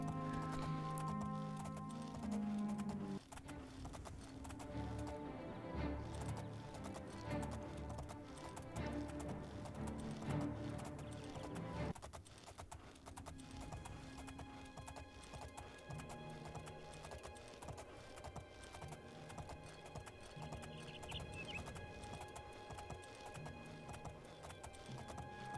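Horse hooves clip-clop at a steady gallop in The Elder Scrolls IV: Oblivion, close and continuous over game music and ambient sound, with a brief whinny.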